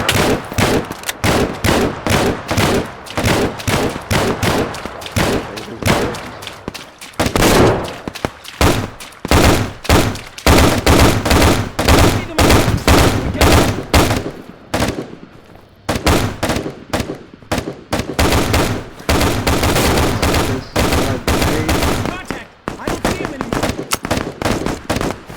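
Rapid, loud gunfire from the first-person shooter Operation Harsh Doorstop, with bursts of automatic shots and single pops packed close together, a brief lull midway before firing resumes.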